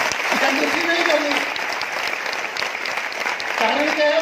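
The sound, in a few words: audience applause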